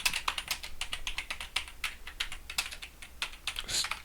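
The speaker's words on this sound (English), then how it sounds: "I need to type in some things so I can see what I'm typing" Rapid typing on a computer keyboard: a dense, irregular run of crisp close key clicks and taps continuing throughout with no voices.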